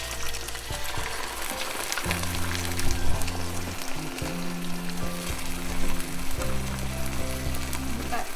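Tuna patties fry in butter in a pan, a steady loud sizzle running throughout with a low hum and occasional stirring clatter beneath it.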